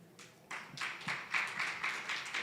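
Scattered clapping from a small audience at a health panel discussion on behavior disorders, sparse hand claps building into a light, uneven round of applause with no one speaking.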